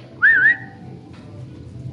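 A short, sharp two-tone whistle calls a horse in Red Dead Redemption 2. It is a single loud, close burst that rises and dips, followed by quiet outdoor ambience.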